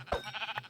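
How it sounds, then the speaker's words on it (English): A sheep bleats in Minecraft, a short wavering blocky game bleat sounding once, close and fairly quiet, with no talking over it. "There's 1 more sheep over here to complete for our 3rd piece of wool."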